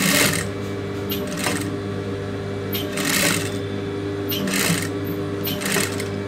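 A sewing machine stitches lace along the neck edge of a blouse, a close rapid mechanical whir in several short bursts with pauses between them.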